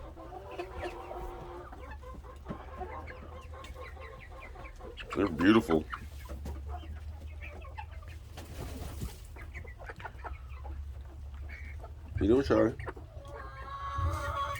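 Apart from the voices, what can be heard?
hens and roosters clucking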